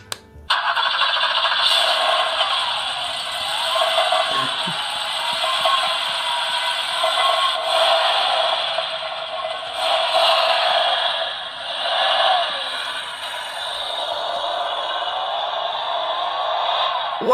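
A high-pitched electric motor of a battery-powered toy car whirs steadily with rising and falling tones as it speeds back and forth, with occasional clicks and rattles.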